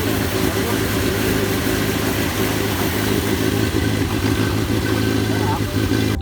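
A boat engine runs at Khanpur Dam, a steady rumbling drone close by that continues without a break. Someone talks over it throughout.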